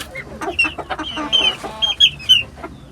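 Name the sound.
İspenç chickens clucking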